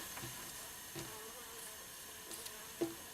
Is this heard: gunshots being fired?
no